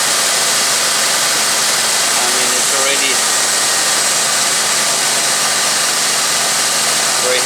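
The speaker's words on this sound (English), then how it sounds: "Okay, so compressor is working." Car engine idling steadily with the air-conditioning compressor engaged, a loud continuous mechanical hum and whir heard up close, with someone speaking briefly over it.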